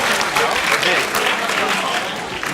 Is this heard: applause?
yes